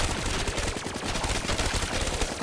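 Continuous rapid automatic gunfire from a weapon in Black Ops 3 zombies mode, loud and close, pounding without a break for the whole stretch.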